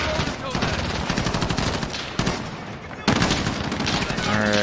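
Call of Duty Modern Warfare gameplay gunfire: sustained rapid automatic bursts from several weapons, loud and close, with sharp shot transients and background battle noise.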